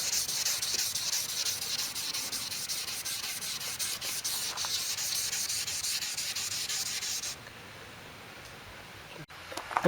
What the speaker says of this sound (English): I went over them once with the sandpaper tool, and you can kind of see scuffed them up